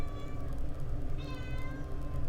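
A house cat meows a couple of times, thin drawn-out calls sitting fairly faint over a steady low room hum.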